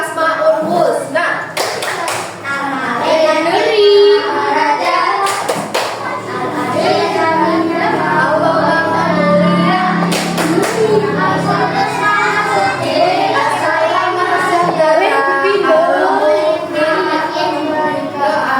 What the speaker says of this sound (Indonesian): Tepuk Asmaul Husna.